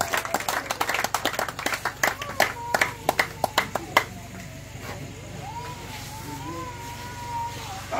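A church congregation in Côte d'Ivoire clapping in acclaim of the Holy Spirit: sharp, irregular handclaps at first, thinning out, with crowd noise and a sustained tonal hum underneath.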